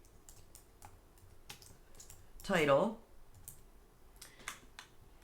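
Light clicks of typing on a computer keyboard, scattered and brief, with a single spoken word cutting in partway through.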